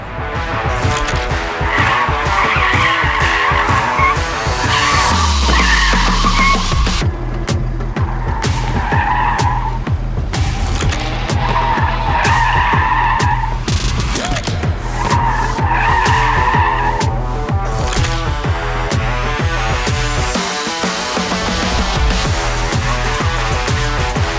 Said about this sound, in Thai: นี่คือ 100 กิโลเมตรครับกับ Tesla Model Y Performance ตัวนี้พร้อมคนเต็มรถแบบนี้จัดไป